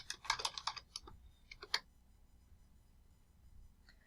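A quick burst of computer keyboard typing, about a dozen crisp clicks within two seconds, then near silence with one faint tap at the end.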